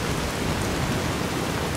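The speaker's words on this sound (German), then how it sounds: "Der Regen. Aber geil ist es schon, das Gewitter, ne?" Heavy rain pours down in a thunderstorm in the video game Fallout: New Vegas, a dense, loud, unbroken hiss of downpour with low rumbling underneath.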